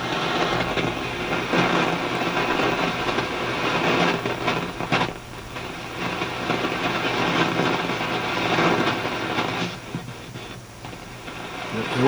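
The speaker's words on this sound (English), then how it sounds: "Let's try the 40 meter amateur radio band, 7 megahertz and up." Shortwave receiver tuned across the 40 meter amateur band, giving a steady loud wash of static and hiss with fluctuating tones and brief dropouts, Morse code signals buried in the noise.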